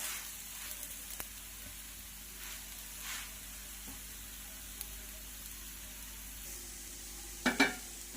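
A gram flour dosa cooking on a hot pan gives a soft, steady sizzle that holds low throughout, then near the end comes a short burst of louder clatter and crackle.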